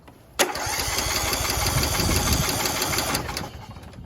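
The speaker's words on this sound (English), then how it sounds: "I just want to hear it crank" A Kohler Courage engine on a Craftsman YS4500 lawn tractor cranks steadily for about three seconds with a rapid, rhythmic churning, then stops. It is fairly loud and close, with no voices.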